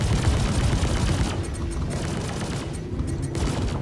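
Rapid gunfire from a Super Hornet fighter firing three Hurston Dynamics attrition guns and two NDB-30 neutron cannons in a Star Citizen space dogfight, loud continuous bursts that pause briefly, then resume in sharp repeated volleys.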